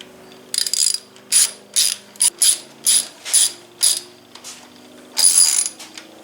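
A hand ratchet tightens a housing bolt on a Chevy S10 truck, giving repeated loud, close clicking bursts in an uneven rhythm with short pauses between strokes.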